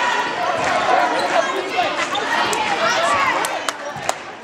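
Student fan section of the Wharton Hornets cheering at a high school basketball game against Butler, a steady roar of crowd noise with shouts and sneaker squeaks, punctuated by a few sharp bounces near the end.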